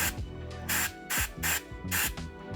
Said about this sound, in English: I get a spray of water from this region